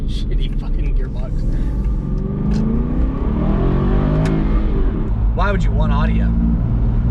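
A sports car with a single-clutch gearbox on a Tennessee mountain road gives a deep, loud exhaust rumble that swells as the engine revs, while someone talks over it inside the cabin.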